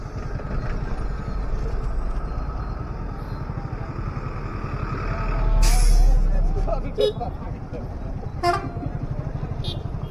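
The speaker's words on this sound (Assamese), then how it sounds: "চব ফালৰ পৰা ডাঙৰ ডাঙৰ বাছ।" Big buses and other traffic pass along a congested road in Assam, engines rumbling steadily as horns toot and an air brake hisses, swelling louder near the middle, with faint voices in the background.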